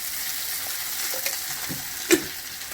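Bitter gourd fries in oil with a constant near crackling sizzle, plus a sharp metallic clink toward the end and no voices.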